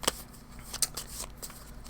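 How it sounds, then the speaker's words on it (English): A draw deck of football game cards is shuffled by hand, giving a few quick riffling flicks and soft papery taps over about two seconds, close and fairly quiet. "Their draw deck, I'll give them a shuffle."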